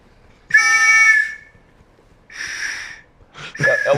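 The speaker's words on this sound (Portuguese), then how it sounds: "É o apito do Grêmio mesmo" A referee's whistle blown in a football press conference setting, three short sharp blasts, loud and close; the first is clean and the later ones falter and sputter into breathy, broken tones.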